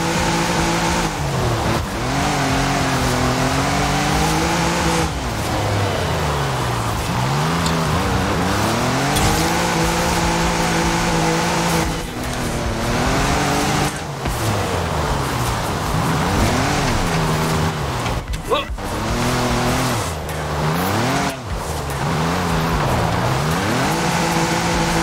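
A pickup truck in the racing game Forza Horizon 5 revs hard and skids, engine pitch climbing and dropping through repeated gear shifts with loud tire squeals, sustained and close throughout.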